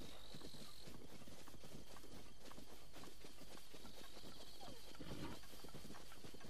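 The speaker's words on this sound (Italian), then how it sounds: "Cavallo." A horse's hooves clip-clop steadily in the open world of Zelda: Breath of the Wild, a faint rhythmic patter of steps set low under soft game ambience.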